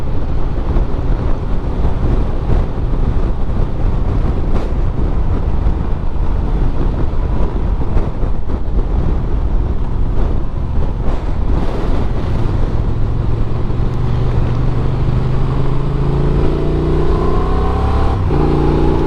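A 2024 Honda Transalp 750 adventure bike roars loudly and continuously under heavy wind buffeting, its engine note climbing and dropping through gear shifts toward the end.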